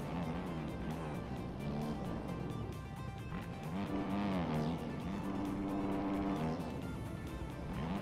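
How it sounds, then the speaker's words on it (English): Motorcycle engines roar in a supercross video game race on a difficult track, a dense buzzing drone that rises and falls steadily throughout with no pauses, loud and close. "I just hear engines"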